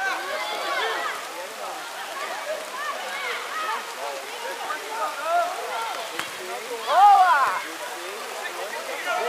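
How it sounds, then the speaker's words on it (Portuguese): Heavy rain falls steadily at an outdoor tennis club during a football match, a constant broadband hiss with voices and crowd chatter running through it throughout. "A chuva aumenta aqui no Tijuca Tênis Clube."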